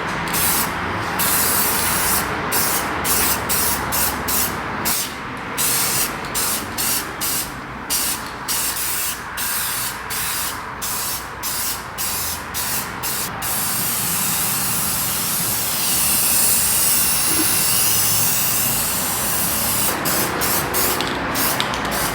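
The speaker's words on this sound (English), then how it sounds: "So we're gonna shake this up and lay our first layer of clear." Duplicolor clear coat hisses from an aerosol can onto an F250 truck in repeated short bursts, then in longer continuous passes with brief gaps, close and loud.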